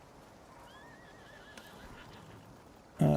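A horse whinnies in the Icarus survival game, a faint wavering call rising over steady wind-like ambience before a louder burst of noise at the end.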